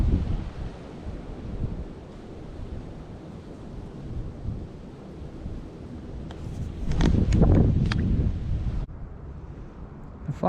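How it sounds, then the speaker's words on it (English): Gusty wind rumbles and buffets the microphone continuously, growing stronger for a few seconds before easing off, while tenkara fly fishing outdoors. "The wind's not helping either."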